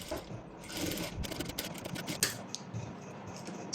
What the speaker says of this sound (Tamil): அந்த 1/4 இன்ச்சில் நான் ஸ்டிச் கொடுக்க போகிறேன்